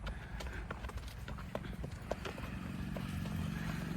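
A 17-month-old Nukra filly's hooves clip-clop at a steady walking pace, sharp knocks repeating over a low rumbling background with faint voices.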